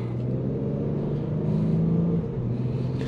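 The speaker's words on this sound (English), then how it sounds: "So V6 note, not too bad at all. Decent power." A 2016 Lincoln MKX Reserve with a V6 engine and 76,000 miles pulls away under acceleration, its steady low engine drone and road rumble filling the cabin, swelling briefly partway through before settling again.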